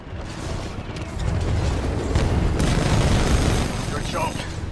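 Heavy weapon fire in Titanfall 2 aimed at a locked target: dense, continuous booming gunfire and mechanical rumble roll on for several seconds, loud and close, with game voices talking over it.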